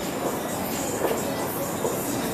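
A CTA Red Line subway train runs through the State Street subway in Chicago with a steady, loud, dense rumble of wheels and rails that stays constant throughout, with no clear speech.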